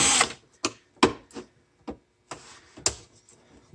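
A hidden screw is backed out of a PlayStation 3 cover, giving a series of sharp, close ratcheting clicks and scrapes spaced irregularly across a few seconds.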